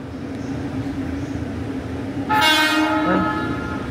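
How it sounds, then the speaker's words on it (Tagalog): A commuter train bound for Kamakura, Japan, sounds a horn over steady rumbling rail noise, a bright harmonic blast rising near the end and lingering for about a second before fading back into the running train. "This is my train going to Kamakura."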